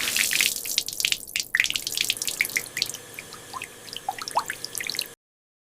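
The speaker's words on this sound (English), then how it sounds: "I wash my face." Water from a tap splashes and drips at a sink during a morning face wash in a city apartment, with irregular close splashes and trickles that continue for several seconds before stopping abruptly.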